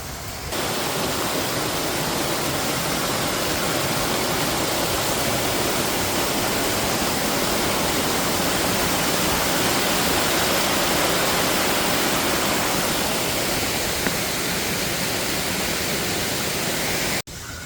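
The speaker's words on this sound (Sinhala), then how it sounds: "මේ වතුර ගලාගෙන එන ශබ්ද" A forest waterfall roars as a steady, dense rush of falling water, loud and unbroken throughout with no voices.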